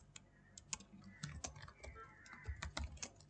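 Quick bursts of clicking keystrokes on a computer keyboard as a git command is typed into a terminal, close and fairly soft, in an uneven rhythm with short pauses.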